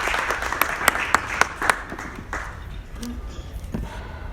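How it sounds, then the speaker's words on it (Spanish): Audience applause welcoming a guest at a book presentation, with several distinct sharp claps rising over a thinner, fading patter that dies away within a couple of seconds into quiet room noise. "Recibámoslo, por favor, con un fuerte aplauso."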